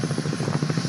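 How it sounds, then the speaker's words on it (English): Military helicopters arriving on a pitch-dark night during the 1980 Desert One Iran rescue mission, their rotors beating in a steady, fast rhythmic chop that is loud and close, with no voices over it. "The helicopters arrive."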